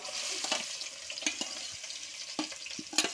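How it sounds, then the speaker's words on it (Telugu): Chopped onion pieces frying in hot oil, a soft steady sizzle with several sharp clicks and scrapes of a spoon stirring, fairly quiet and close. "ఇప్పుడు కోసుకున్న ఉల్లిపాయ ముక్కలు వేసేసుకుందాం"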